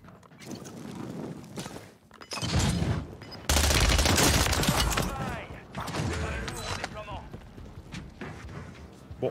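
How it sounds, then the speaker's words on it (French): Bursts of gunfire in Warzone 3, irregular volleys that swell loudest in the middle, mixed with footsteps and mechanical clatter while someone talks in French. "Je suis tiré dessus."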